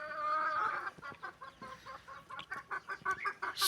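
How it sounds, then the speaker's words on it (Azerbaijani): Backyard chickens with a low-ranking rooster cluck in short, choppy bursts, the calls close and moderately loud, with a steady run of clucks toward the end. "Ən aşağı rütbə olan xoruz budur."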